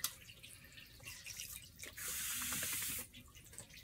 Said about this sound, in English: A little more water on the top.